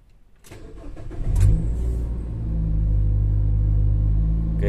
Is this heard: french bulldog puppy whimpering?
no